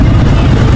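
A car passes loudly and close by on a road in Mocoa, Colombia, giving a brief, dense roar of engine and road noise with no talk.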